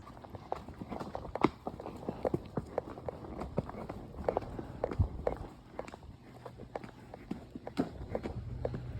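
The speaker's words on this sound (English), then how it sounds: "I'm going to go ride a horse" Hooves clop at a walking pace on a dirt trail, uneven steady thuds close by with faint background noise.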